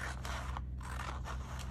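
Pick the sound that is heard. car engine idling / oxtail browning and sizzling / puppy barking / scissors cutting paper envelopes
scissors cutting paper envelopes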